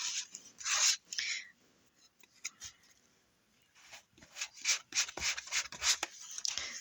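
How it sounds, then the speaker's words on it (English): Paint is rubbed over a stencil onto junk journal pages, giving close, soft scratchy rubbing strokes in irregular bursts with a brief quiet pause midway. "You can even lay down a stencil and rub the paint over the stencil."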